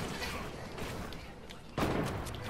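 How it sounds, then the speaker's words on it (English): Enemy gunfire in a squads shooter video game, a series of dull distant shots over background noise, ending in one louder, heavier blast. "Now they're shooting down at us."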